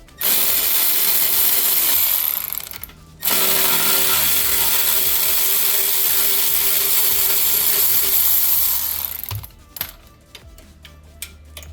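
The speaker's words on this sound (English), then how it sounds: "we got the extension right there with the M12 Milwaukee ratchet. So we'll go ahead and take these 2 out" A Milwaukee M12 cordless ratchet with an extension and 12mm socket backs out two clamp bolts on a 2012 Kia Soul 2.0L rear suspension, whirring loudly in two long close bursts, followed by quick ratcheting clicks.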